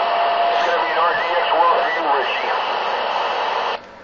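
A CB radio transmission on Channel 19 carries a garbled, compressed voice over a constant hiss of static, then cuts off sharply near the end.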